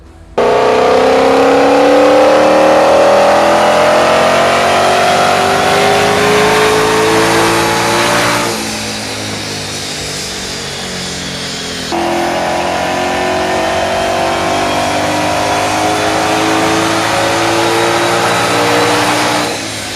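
A 2020 Shelby GT500 with a GEP tune revving on a dyno, a loud engine climbing steadily in pitch for several seconds, dropping briefly, then pulling hard again before cutting off.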